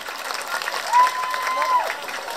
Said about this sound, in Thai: ขอเสียงปรบมืออีกครั้งหนึ่งปรบมืออีกครั้งหนึ่งครับ